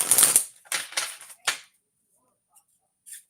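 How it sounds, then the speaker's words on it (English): A few quick, crisp card riffles and snaps in a short burst, close up, then near silence with one faint flick at the end. "Give me some hearts when you want me to stop shuffling the second cards."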